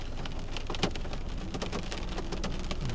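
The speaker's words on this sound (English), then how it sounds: "It looks like mostly rain, less hail." Heavy rainstorm in Edmonton, Alberta, mostly rain with only a little hail, pouring as a dense, steady roar of drops on surfaces with no pauses and no voices.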